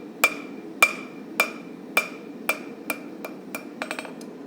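Hammer blows ring out on an anvil horn as the bevel of a railroad spike knife blade is forged: about ten sharp metallic strikes with bright ringing, steady at first, then quickening into a rapid cluster.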